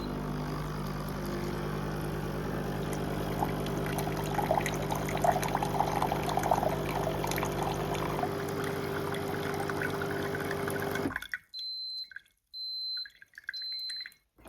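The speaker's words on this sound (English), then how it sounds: "We'll press that just to run just some blank water through this basket and through the system to get any of those chemicals out" Rinse water runs through the basket of a coffee machine being cleaned, a loud steady pouring and humming flow that stops abruptly, followed by near silence with faint intermittent electronic beeps.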